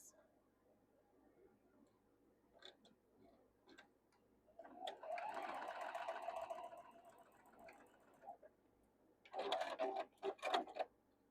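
A sewing machine stitches quilt blocks together in two bursts of rapid, even whirring and ticking, the second shorter, with quiet handling clicks and pauses between.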